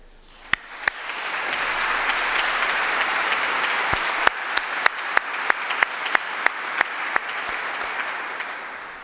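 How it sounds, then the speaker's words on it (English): Graduation ceremony audience at King's College London breaking into a loud round of applause that builds quickly and holds steady, with a few sharp close claps standing out over the crowd. "So please join me in a loud round of applause to thank those people."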